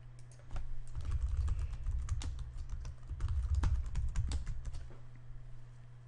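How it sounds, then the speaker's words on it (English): Keys tapped on a computer keyboard in a quiet room, a soft irregular run of clicks at close range, with brief pauses between bursts and no talk. "I will enter a secure password and confirm"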